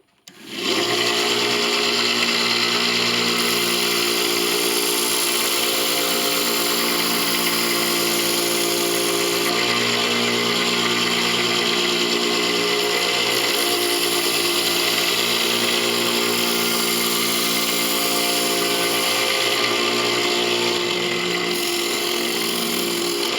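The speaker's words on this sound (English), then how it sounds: "a clamping system here to basically just drag the knife across the belts" A belt grinder drones loudly and steadily as a recurve knife blade is drawn across the belts in a clamping system, with the grinding tone shifting slightly through the passes.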